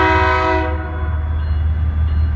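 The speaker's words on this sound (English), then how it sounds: "This train looks pretty short, it shouldn't take too long." A short freight train rolls past a crossing near a bus route, its loud horn sounding steadily for the first half-second before fading into a close, continuous low rumble of rail cars.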